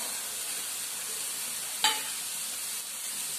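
Par-boiled jackfruit and potato tipped into a hot pan and stirred, a steady sizzle with one brief clatter as the pieces go in, close and with no talk.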